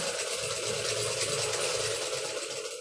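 A hand-operated sewing machine whirs and clatters steadily, a continuous mechanical rattle with fine rapid ticking, close and unbroken, with no talk.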